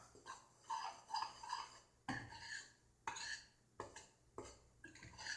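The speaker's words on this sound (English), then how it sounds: "Now I'm going to take a spoon. I'm going to stir everything up." A spoon stirs bread dough ingredients, flour and salt, in a bowl for home-made white bread. Quiet, repeated clinks and scrapes come in irregular bursts with short pauses between them.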